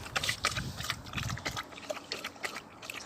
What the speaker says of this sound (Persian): آب خوردن یه حیوان تشنه